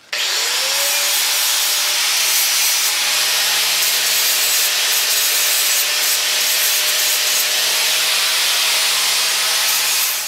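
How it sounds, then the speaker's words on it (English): An angle grinder fitted with a flap disc deburrs freshly cut 1/8-inch steel bracket edges for a spice rack, giving a steady, close, continuous abrasive hiss that runs unbroken throughout. "we'll take a flap disc on the grinder and deburr those edges we cut so they're not so sharp"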